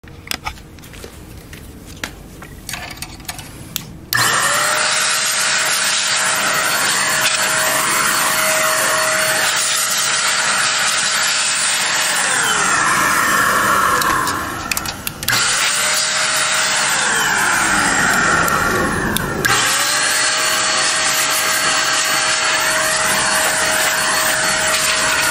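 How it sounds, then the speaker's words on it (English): An electric air blower clears dust out of a computer. It starts after a few seconds of quiet rustling and makes a loud, steady high-pitched whine that pauses briefly twice, alone with no voices. "blower and I'm going to blow all the dust out of it"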